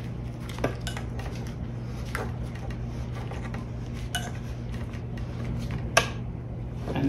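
A BMW R1200RS motorcycle fork part is turned backwards by hand over a steady low workshop hum, giving a few faint ticks and then one sharp, distinct click near the end.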